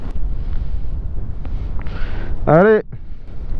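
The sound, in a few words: strong wind blowing into the microphone while riding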